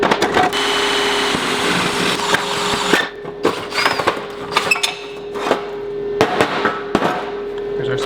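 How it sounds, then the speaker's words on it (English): Step drill bit boring through thin metal for a boat trailer frame; a loud, steady grinding whine runs for three seconds, then stops, followed by a scatter of sharp clanks and knocks. "Got a step drill bit, and on this thin metal, this works really well"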